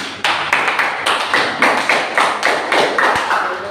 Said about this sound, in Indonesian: Tepuk tangan dulu untuk kelompok pertama.